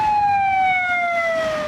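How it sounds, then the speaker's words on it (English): An ambulance siren from a fleet of ambulances, a loud steady wailing tone that slowly falls in pitch over road noise, close and continuous. "A fleet of ambulances carrying a macabre cargo, the coffins prepared for the condemned."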